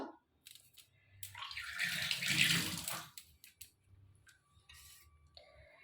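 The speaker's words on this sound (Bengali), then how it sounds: "পরিমাণ মতন আমি জল দিলাম" Water is poured into a grated coconut mixture for kneading, a brief close trickle and splash that swells and then fades, followed by faint handling noises.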